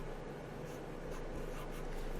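Marker or chalk writing on a board during a physics lesson on Ohm's law, a soft, continuous scratching stroke that stays faint and close with no talk.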